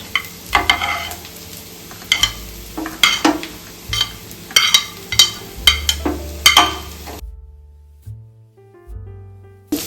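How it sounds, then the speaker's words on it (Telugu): Cashews fry in a pan for curry leaf lemon rice, with repeated sharp stirring scrapes and taps over a light sizzle for about eight seconds. The sound then drops to near silence, and there is no talk. "ఇవి కూడా వేగించి పక్కన పెట్టేసుకోండి ఇలా వేగించేసుకొని"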